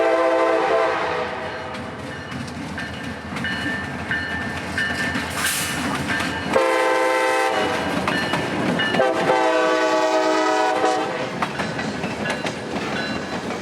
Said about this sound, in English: I'm now getting jump scared by another insanely quick L755.